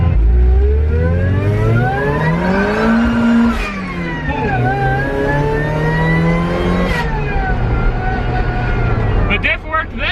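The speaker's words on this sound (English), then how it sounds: "Oh, you can hear the tires screeching." Rally Mazda Miata driven hard, its engine revving up and down through rising and falling pitch sweeps, close and loud inside the car, with a voice talking over it and a couple of sharp bursts near the end.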